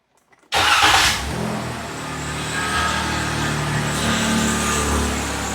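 A 2013 Ram 1500 4x4 with the 3.6 engine cranks and starts after silence, a brief loud flare settling into a steady, close idle.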